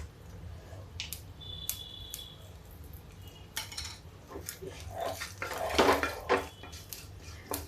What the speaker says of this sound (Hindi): राई तड़क गई है, अब डाल देते हैं इसमें सौंफ।